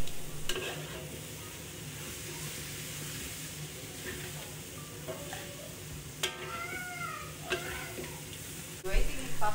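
Shrimp stir-fried with tauco, a fermented soybean paste, in a home kitchen, giving a constant close sizzle with occasional scraping stirs and brief clatters, plus some faint background chatter.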